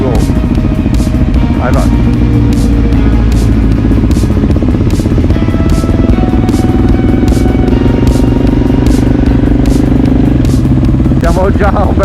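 A group of motorcycles sets off together on a ride, engines rumbling loud and close with revving and clattering throughout, while people shout over the noise.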